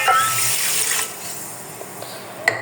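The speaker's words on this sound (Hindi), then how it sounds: "1 गिलास हम इसमें पानी का शामिल करेंगे" A glass of water poured onto sugar in a pan to make syrup for semolina barfi, a steady splashing rush for about a second that fades into a quieter trickle, close and alone.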